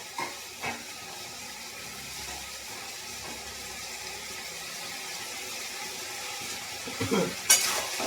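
Chicken and onions being stirred in a pan, a soft steady sizzle with faint spatula scrapes and a brief clink of cookware toward the end.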